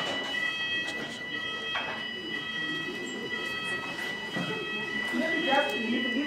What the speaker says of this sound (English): There is just that alarm.